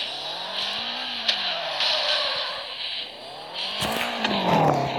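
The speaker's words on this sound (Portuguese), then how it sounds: "O zumbido desse carro também." A Nissan 350Z engine hums and drones steadily in a racing video game, its pitch rising and falling with shifts, tire squeal mixed in, loud and continuous with no talking.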